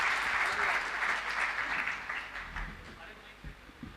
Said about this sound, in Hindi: ताली बजाकर मैं फिर कविता सुनाता हूँ।